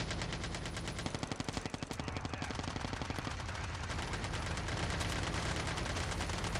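AK-47 fire in the COD Mobile game mode Undead Siege, rapid automatic bursts rattling in a dense, steady stream, fairly quiet overall, with no talking over it.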